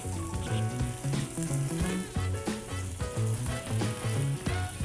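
Garlic hitting a hot pan for a shrimp cocodrie gives off a steady sizzling hiss, partly buried under loud music with a thumping bass line that runs throughout.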